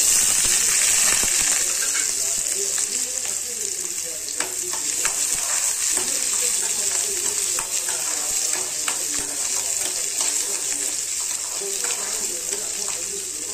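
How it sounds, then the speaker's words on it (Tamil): Small onions sautéing in a pan for fish curry, a steady close sizzle with a scrape of the spoon now and then, carrying on evenly from start to finish. "வெங்காயம் நல்லா வதங்கிடுச்சு"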